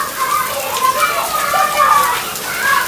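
Steady heavy rain hisses throughout, with children's voices and talk mixed in close by.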